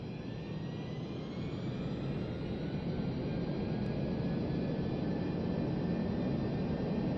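Simulated engines of a Boeing 747-200F in reverse thrust give a steady, broad jet roar with a low rumble and faint whining tones, held evenly throughout.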